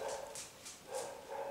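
A dog barking near a woodshed, five short, evenly spaced barks at moderate distance, fairly faint over a steady background hiss.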